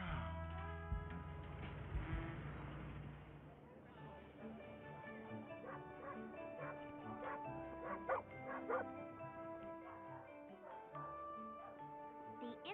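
Dogs bark and yip at an international dog show in a Scooby-Doo cartoon, a busy chorus of overlapping barks running steadily under music and background sound throughout.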